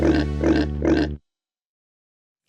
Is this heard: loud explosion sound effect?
no